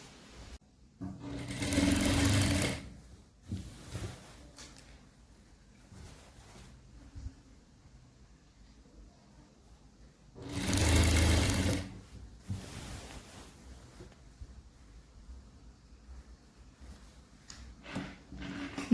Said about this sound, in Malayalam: ഇതാ നല്ല വശത്തേക്ക് വെച്ചിട്ട് നമുക്കിങ്ങനെ സ്റ്റിച്ച് ചെയ്തെടുക്കാം.